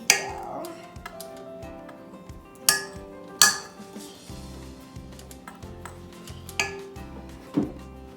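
A metal spoon scrapes and clinks against a bowl while molasses cookie dough is cleared off, a handful of sharp isolated taps and scrapes spaced across a quiet kitchen background.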